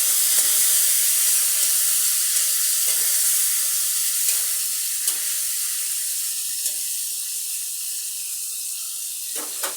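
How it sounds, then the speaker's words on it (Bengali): Potato pieces seasoned with turmeric and salt fry in hot oil after cumin seeds, a steady close sizzle and hiss with a few light clicks of stirring, no voices. "এখন আলু গুঁড়ি ছেড়ে দেবো এখানে হলুদ লবণ দেওয়া আছে ভেজে নেব আগে"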